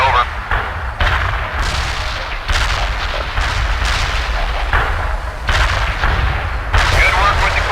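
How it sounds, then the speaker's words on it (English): Heavy artillery strike in the strategy game World in Conflict, a series of loud booming explosions landing one after another at irregular intervals, close and rumbling, with faint voices mixed underneath. "Artillery strike delivered."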